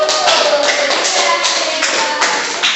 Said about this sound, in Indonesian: Ya, tepuk tangan buat Sari.